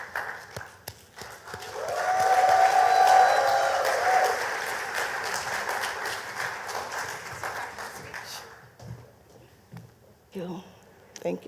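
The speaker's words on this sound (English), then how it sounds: "Well, you clap already? Clap again." Conference audience applauding for a women's wear brand founder, a dense burst of clapping that swells loud and then tapers off over several seconds, with cheering and scattered talk near the end.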